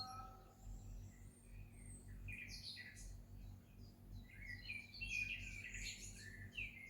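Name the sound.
birds chirping and singing at night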